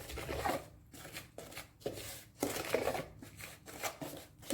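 Tile grout for a mosaic being mixed by hand, a series of soft scraping, gritty strokes in an irregular rhythm, close and quiet with brief pauses between them.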